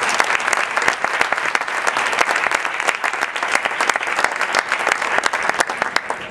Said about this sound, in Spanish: les regalemos un fuerte aplauso